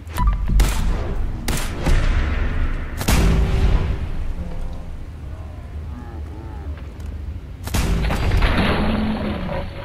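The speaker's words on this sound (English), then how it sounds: "So now shooting Mr. Schutz" Gunfire in Fallout 4 aimed at a ghoul: several loud, sharp shots ring out in a ragged sequence, with game ambience and a talking voice in the gaps.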